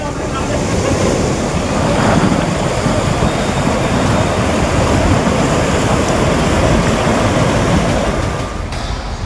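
Floodwater surges powerfully through a temple compound in Nashik, submerged past waist height, a loud continuous broadband roar of churning water with a wind-like rush that holds steady throughout and dips briefly near the end.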